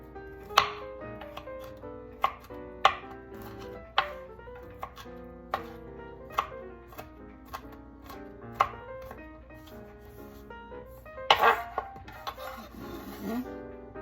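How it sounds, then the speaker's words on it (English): Knife slicing garlic into small pieces on a cutting board for congee: a steady series of sharp, close chops spaced about a second apart, over a soft background hum, ending in a quicker cluster of cuts. "Slice the garlic. Small pieces."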